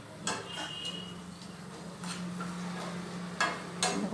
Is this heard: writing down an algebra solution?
no